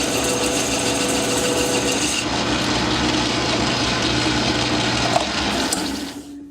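A small lathe with a negative geometry toolholder takes a heavy cut on aluminum, giving a loud, continuous grinding hum with a faint tonal whine that stops after a few seconds as the motor winds down.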